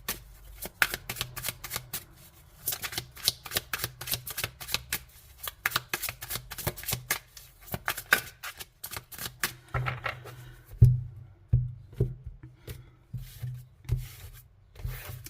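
Tarot cards are shuffled and dealt out, making crisp, rapid riffling flicks followed by slower slaps and slides of single cards laid down one by one, close up and without talk.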